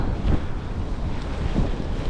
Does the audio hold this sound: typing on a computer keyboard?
no